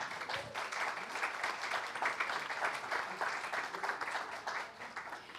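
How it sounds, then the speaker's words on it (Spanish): An audience at a literary talk breaks into applause, a steady patter of many hands clapping throughout, moderately loud with slight swells, while faint voices mix in underneath. "Un aplauso."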